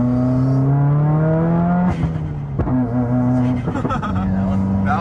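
A Subaru WRX's engine revs high, then drops off, and sharp exhaust pops and crackles burst out during the lift-off. The car is heard from inside, close and loud, with voices over parts of it.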